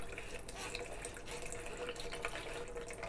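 Cinnamon- and turmeric-infused water is poured through a strainer, giving a steady, close trickling and splashing that runs without pause.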